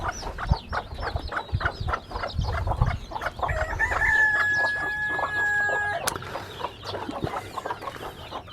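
Hens cluck in rapid, repeated bursts near the coop while a rooster lets out a long crow partway through, with the birds loud and close and no talking.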